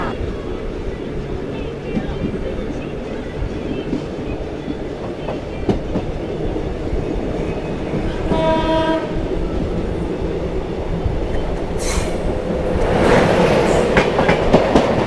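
The Gwalior Barauni Express passes through an Indian railway station: a loud, continuous rumble of coaches rolling by, with a horn blast in the middle and rising rattle and screech toward the end.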